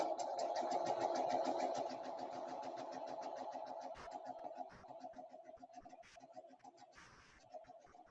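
A sewing machine stitching quilt rows together runs in a fast, steady mechanical whir with a rapid needle rhythm, close and continuous, then slows and turns more uneven toward the end.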